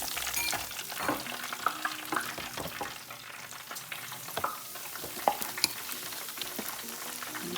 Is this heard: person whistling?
no